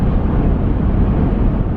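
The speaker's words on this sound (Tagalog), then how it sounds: "Mahangin din. Parang dinuduyan yung car." Strong wind buffeting a parked car, a steady low rumbling roar pressing on the body and microphone, loud and unbroken with no talking.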